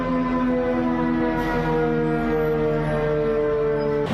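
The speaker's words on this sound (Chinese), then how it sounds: "听到这个警报声音" A tsunami warning siren, set off by mistake at a police station in Zhonghe, Taiwan, wails loudly and continuously on a steady multi-toned pitch, filling the whole stretch with no speech over it.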